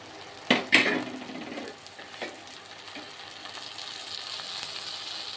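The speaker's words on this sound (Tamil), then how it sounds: "இப்போ கேஸ் கொஞ்சம் கம்மி பண்ணிவிட்டு முதல்ல பச்சை மொச்சை இதை சேர்த்துக்கலாம்." Green lima beans tipped into a hot pan of oil with two sharp clattering drops, then a steady low sizzle and faint scraping of stirring that continue quietly to the end.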